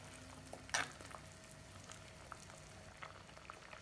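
A pot of fenugreek-leaf curry (vendhaya keerai kuzhambu) bubbles quietly, soft low simmering with a few faint pops and one brief clatter early on.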